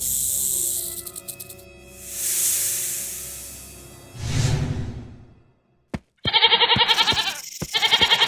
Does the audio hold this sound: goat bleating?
yes